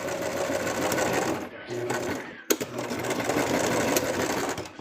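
A sewing machine stitches the neck of a plush toy, running in close, steady whirring bursts with a short pause and a sharp click midway before resuming.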